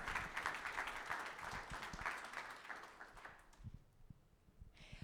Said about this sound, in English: Let's give a big round of applause to our young CEOs.